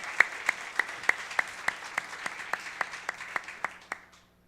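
A church congregation claps together in a steady, evenly spaced rhythm of about a dozen sharp beats, fairly soft and slightly distant, then falls silent.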